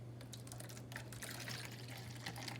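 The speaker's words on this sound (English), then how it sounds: "I'm gonna pour my saline." Saline is poured from a bottle, making a faint, steady trickle and splash of liquid that runs continuously and quietly up close.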